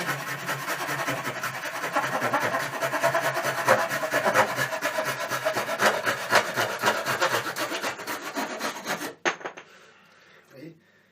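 A Japanese pull saw cutting wood for a wooden spoon: steady rhythmic rasping strokes, close and fairly loud, running for about nine seconds before stopping abruptly, followed by a few faint handling noises.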